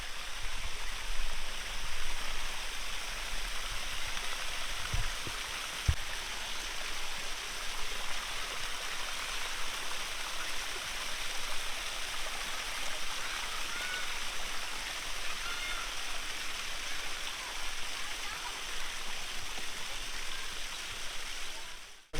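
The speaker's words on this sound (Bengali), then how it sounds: "এই যে ঝর্ণাটা কিন্তু ফাইনালি চালু হলো" A fountain at Shikarpur Government Park in Nadia pours water in a steady, even splashing rush, close and continuous throughout, with a couple of faint knocks early on and no talking.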